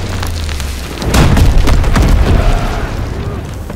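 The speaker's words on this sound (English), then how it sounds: "Bombs incoming." Bombs explode in a PS4 video game as a run of heavy, rumbling booms that swells about a second in and rolls on for a couple of seconds before fading.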